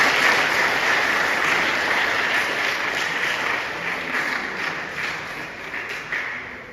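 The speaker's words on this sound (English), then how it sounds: "please give Mr. Soliba Dafe a very warm hand of applause" An audience at an award gathering claps warmly in a sustained, dense round of applause that stays steady and then eases off slightly toward the end.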